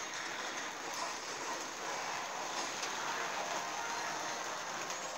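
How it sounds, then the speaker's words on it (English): Heavy rain falling outdoors, a faint, steady hiss of downpour that carries on evenly with no breaks and no talking. "It's raining pretty hard out."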